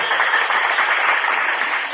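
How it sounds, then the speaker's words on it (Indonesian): Audience applause for a young child preacher at a da'i cilik event in Aceh Singkil: a dense, steady wash of many hands clapping that holds evenly for about two seconds. "Tepuk tangan dulu"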